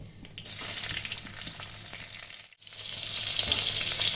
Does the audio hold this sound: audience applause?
no